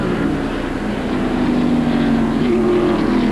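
NASCAR stock cars race at Watkins Glen in 1991, a loud, continuous engine roar with a rising and shifting pitch as cars pass at speed, with no talk over it.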